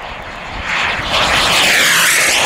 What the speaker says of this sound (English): From the right once again, Major Woody, selecting full military power for the low flyby.